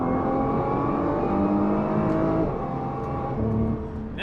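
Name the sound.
2021 Nissan GT-R turbocharged engine accelerating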